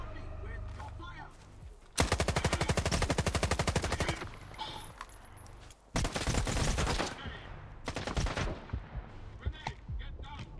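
Gunfire in the video game S.T.A.L.K.E.R. 2: long, loud automatic bursts of rapid shots with shorter volleys and scattered single cracks between them, and voices talking in the background.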